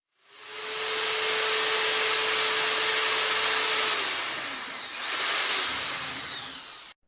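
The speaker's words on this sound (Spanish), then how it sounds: "Entra justo a la medida para evitar que la broca se mueva de lugar." Power drill boring a dowel hole in wood through a Drillpro jig, spinning up to a sustained loud whir that dips briefly under load midway, then winds down at the end.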